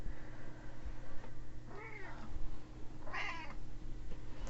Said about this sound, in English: I just don't know why this cat decides to meow the most when I want to record videos.